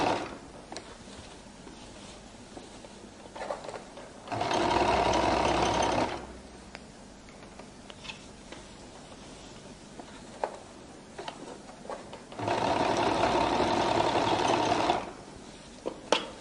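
A sewing machine top-stitches along the edge of a flared skirt's waistline, in two separate runs of a couple of seconds each, separated by quiet handling sounds and soft clicks.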